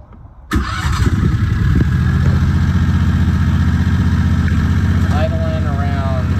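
A Predator 670 V-twin golf cart engine turns over and settles into a steady, loud idle around 1800 RPM with a low rumbling pulse that holds evenly throughout.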